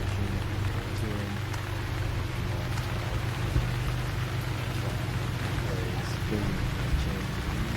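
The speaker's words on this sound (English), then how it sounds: "It's raining." Rain falls in a modded Stranded Deep, a steady dense hiss of drops over a low rumble, continuous and fairly loud throughout, with no voices.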